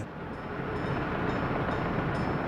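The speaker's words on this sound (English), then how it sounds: "we have this train" A steady broadband rumble of a train rolling along in the Soviet-era city-building game Workers & Resources: Soviet Republic, continuous and fairly loud with no talking over it.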